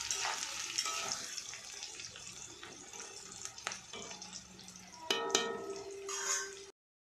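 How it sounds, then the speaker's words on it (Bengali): Potatoes and onions sizzling in a pan as they fry, heard as a faint, steady sizzle with scattered clinks and stirring sounds, close by and without talk. "এখানে আলু আর পেঁয়াজটা ভাজছি।"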